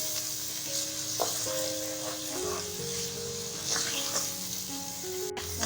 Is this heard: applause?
no